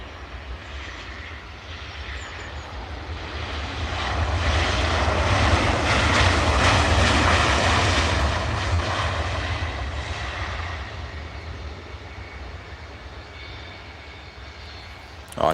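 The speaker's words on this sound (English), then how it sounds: "So here's the KLM 70, an aging aircraft," A KLM Boeing 737 airliner, an aging aircraft, passes at Edinburgh Airport. Its loud, steady engine roar swells to a peak mid-way and then slowly fades, with no talk over it.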